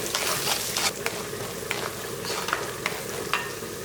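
Shallots with salt and a pinch of turmeric sautéing in a pan for mutton masala fry, a continuous close sizzle punctuated by several crisp spatula scrapes and clicks, no speech.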